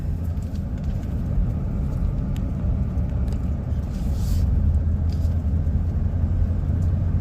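Car driving along a road around Bonita Lake in the Lincoln National Forest, New Mexico, heard from inside as a steady low engine and road rumble with no talk.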